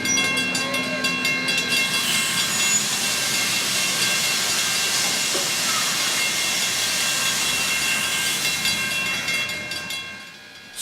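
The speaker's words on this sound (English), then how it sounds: "the Little River Railroad 110, as it's seen here backing the hour-long train into the loading platform" Little River Railroad steam locomotive No. 110, custom built in 1911, backs a passenger train into a loading platform with a steady, loud steam hiss and a faint whistle-like tone that fades away at the end.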